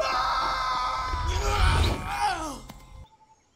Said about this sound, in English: I don't know what he's screaming about.